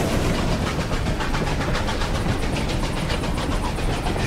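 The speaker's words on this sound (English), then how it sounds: "Here comes the train." A train rolls past in the Desperados 3 video game, a steady, loud rumble with a rhythmic clickety-clack of wheels running throughout, close and continuous with no talk over it.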